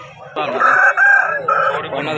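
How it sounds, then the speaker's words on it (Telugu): A rooster crows loudly and close by at a rooster market, one long strained cock-a-doodle-doo with a brief break in the middle, heard alone over faint background noise. "కోడి చాలా ఎగ్రెసివ్గా చాలా స్పీడ్గా ఉంది"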